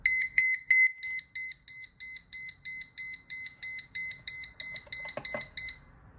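Paging button on a thrift-store cordless phone handset sets off continuous beeping: a steady series of evenly spaced, bright electronic beeps, close and clear, repeating about three times a second with a brief click near the end.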